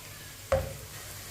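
Onions browning lightly in a pan for Punjabi sarson ka saag, a soft steady sizzle with one sharp stirring scrape near the middle and a fainter knock toward the end.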